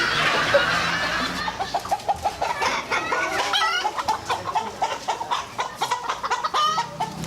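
Chickens cluck repeatedly in a rhythmic, fairly close series of short calls, with a brief higher squawk near the start and little else audible.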